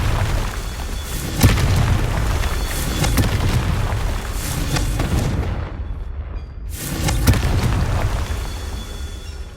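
Confringo spell blasts in the Hogwarts Legacy video game land as repeated booming explosions with loud rumbling impacts and brief bursts, one after another, and a short silent gap between them.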